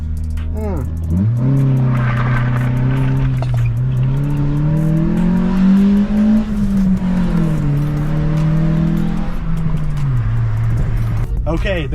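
The SR20 engine of an Infiniti G20 runs steadily and revs up and down through gears, loud and close, with rising and falling pitch.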